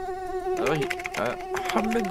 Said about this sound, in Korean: 이제 여름도 아닌데 모기 새끼들 왜 이렇게 많은 거야?